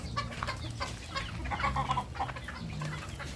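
Bulik chickens clucking nearby, a steady stream of short overlapping clucks and murmurs from several birds moving about freely.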